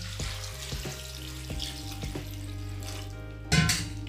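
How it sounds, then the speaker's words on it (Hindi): Water is poured from a tap into a vessel of chickpeas and fenugreek leaves for washing, a soft running splash with small knocks and clinks, swelling briefly louder near the end. "अब देखिए इसमें डाल देते हैं पानी"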